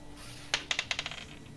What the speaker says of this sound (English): I never get to roll my dice, and I want to roll my fucking dice, so I'm going to roll my dice.